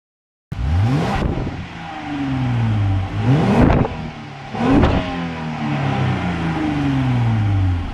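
A Jeep Gladiator with a Corsa dump exhaust cranks and catches, then revs hard three times with loud, raspy exhaust bursts, each rise falling back to a rumbling idle.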